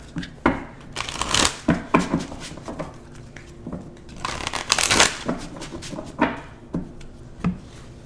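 A deck of Fairy Tarot cards is shuffled by hand in repeated riffling bursts with soft taps and handling noises between them, close and moderately loud, with no clear speech.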